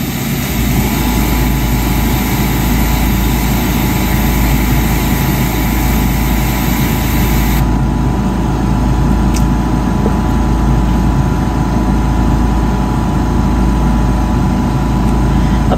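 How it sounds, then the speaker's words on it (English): A small 8-gallon oilless California Air Tools air compressor runs steadily and loud at close range, a constant motor drone with a high whine that drops away midway. "Apologies for the noise, you guys. It's actually pretty quiet for a compressor."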